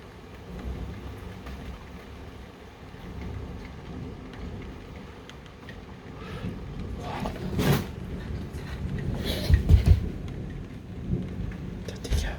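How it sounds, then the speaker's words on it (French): Hailstorm in Alsace with heavy rain and thunder, a steady dense roar of downpour and hail with louder thunder rumbles and sharp bursts building toward the end. "Là, il y a carrément de la grêle qui tombe."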